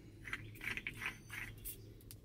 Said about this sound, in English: So I'm going to thread it on there.